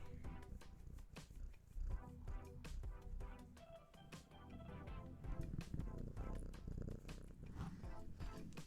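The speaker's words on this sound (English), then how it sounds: "I hope you could hear her purring there" Low, steady purring from a cat on a lap close by, continuous rumbling throughout with some faint rustling on top.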